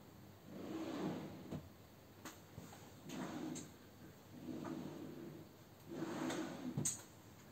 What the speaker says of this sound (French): j'ouvre un peu mes tiroirs.